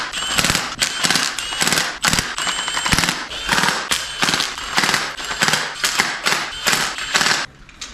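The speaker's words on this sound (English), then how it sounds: "get all your bolts started before you tighten them up" Rapid ratcheting bursts from a hand ratchet tightening oil pan bolts on a junkyard 5.3 LS V8 engine, close and loud, repeated in quick runs with short pauses between strokes.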